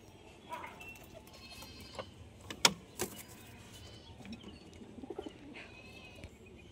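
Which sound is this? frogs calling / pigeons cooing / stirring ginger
pigeons cooing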